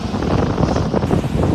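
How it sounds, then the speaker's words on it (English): Strong wind gusting across a Gulf beach in North Naples, Florida, a loud continuous roaring buffet on the microphone with surf noise underneath, steady and close for a second and a half. "Very, very windy."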